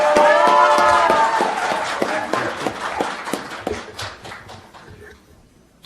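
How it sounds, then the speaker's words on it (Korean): An indoor audience at an education reform forum applauds as the Seoul mayor takes the stage, loud dense clapping at first that thins into scattered individual claps and fades out. "박원순 시장을 여러분 박수로 맞이해 주시길 바랍니다"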